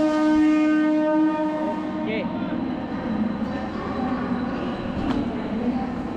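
An Uran–Belapur local train pulls away from the platform, sounding a long, steady horn tone at the start before the low rumble of wheels and carriages builds. A passenger speaks briefly nearby.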